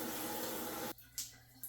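Shower water runs steadily while shampoo is rinsed from hair, a dense hiss that cuts off abruptly midway, leaving a quieter room with a few faint drips and splashes.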